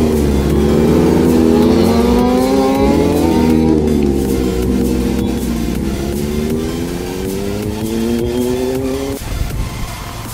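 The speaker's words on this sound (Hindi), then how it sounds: "1000 RR तो अभी बस सामने से गुजरी है" A 1000 RR superbike at a biker gathering passes close by, its engine note loud and sweeping through a rising-falling pitch for several seconds before fading, with other vehicle noise around it.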